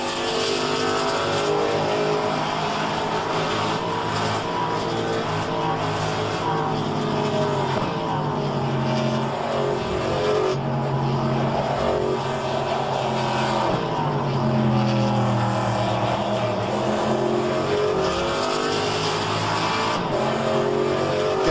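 Several race cars in rFactor 2 sim racing, SuperStock Historics at Portland, roar continuously with shifting engine pitch as one car tries to overtake another, loud and steady throughout with no talk.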